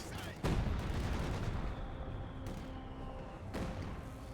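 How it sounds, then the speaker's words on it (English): Soviet artillery fires in the Company of Heroes 2 strategy game, with a heavy close boom at the start followed by rumbling explosions and a second sharp blast near the end, over continuous battlefield noise. "Unleashing the might of Soviet artillery."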